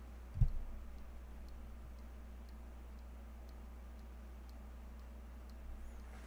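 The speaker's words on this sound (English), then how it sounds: "that is the piezo clicking every half second" A piezo buzzer wired to an Arduino clicks every half second, giving faint, evenly spaced ticks over a steady low hum, with one louder knock near the start.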